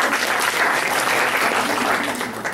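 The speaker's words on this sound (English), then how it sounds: "give yourselves a round of applause" A seated conference audience applauds steadily, a dense, sustained wash of many hands clapping at close range throughout, with no speech over it.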